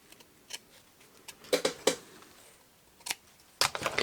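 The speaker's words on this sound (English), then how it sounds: "Trim off the ends with the bluntest scissors you've ever seen." A few sharp, dry snips of very blunt scissors trimming ribbon ends, in quick irregular bursts, close by and crisp against near silence.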